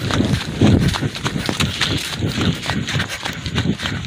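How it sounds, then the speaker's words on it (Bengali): A local cow running through a village field, its quick, heavy hoofbeats thudding close in an uneven galloping rhythm, with rustling and a faint voice in the background. "দর্শক গরু কিন্তু দৌড় দিয়েছে।"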